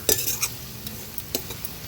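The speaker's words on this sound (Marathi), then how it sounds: "हळद आणि मसाला तेलावर छान परतून घ्यायचा आहे अर्ध्या मिनिटासाठी तरी हा मी व्यवस्थित परतून घेते" Turmeric and masala sautéing in hot oil, a short burst of close spoon scraping and stirring against the pan over a soft continuous sizzle, with a couple of brief scrapes.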